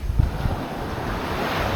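Ocean waves roll in on a calm morning at a New England shore, a broad steady wash of surf with gusty wind buffeting the microphone, no voices.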